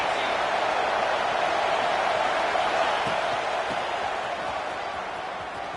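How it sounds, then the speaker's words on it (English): A packed Ole Miss football stadium crowd roars as a dense, steady, loud wash of cheering and shouting that eases slightly toward the end. "This crowd bringing the energy and noise early."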